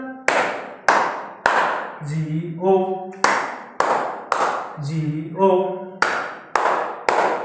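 Sharp hand claps in the Bingo children's song, landing in groups of three in a steady beat, with a voice singing letters of the name between groups; close and loud.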